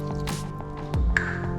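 Half a cup of water pours into a pan of sugar in a brief splashing trickle with a few drips, close and clear, in a quiet kitchen.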